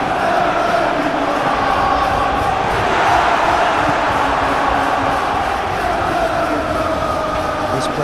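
A packed stadium crowd in a football video game Tottenham Hotspur match chants and roars as a dense, loud, unbroken wall of noise throughout.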